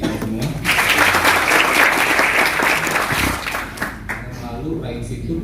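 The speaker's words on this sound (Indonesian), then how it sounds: "tepuk tangan untuk kita semua" An audience at a health and fitness talk in Bali bursts into loud, close clapping that holds for several seconds then fades, with voices talking beneath and after it.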